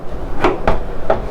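A wooden cabin door on a Rhea Trawler 34 boat is swung shut, giving a few soft knocks and thuds close by, with a final latch click.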